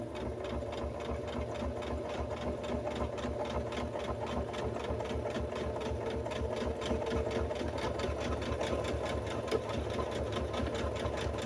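A sewing machine runs steadily without pause while stitching a seam on a porch goose costume, giving a close, continuous mechanical whir with a fast rhythmic needle clatter.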